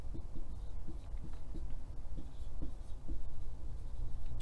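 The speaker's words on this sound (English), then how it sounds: "I'll write it right here" A marker or chalk moves across a board during a math lesson, producing soft, irregular taps and scratchy strokes over a low room hum, with no voices.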